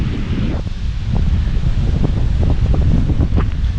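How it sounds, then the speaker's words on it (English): Gusty wind blowing across a sunny fall campsite in old mining country, a loud steady rush buffeting the microphone with a low roar, occasional rustling and flapping sounds scattered through it, no voices. "the wind has kicked up"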